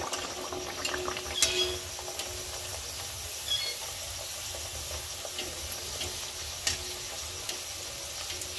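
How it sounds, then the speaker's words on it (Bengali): Green pea kachori fry in a pan of hot oil, a steady close bubbling sizzle that runs without a break, with a few faint clinks and crackles on top. "কড়াইশুঁটির কচুরি দিয়ে দিচ্ছি তেলের মধ্যে, একদম ফুলকো ফুলকো হবে।"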